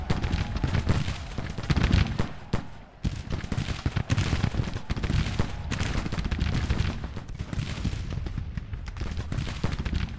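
Civil War battle in a strategy video game, with dense, continuous musket volleys and booming artillery rolling together in a loud, chaotic roar, sharp reports punching through throughout with only a brief dip midway.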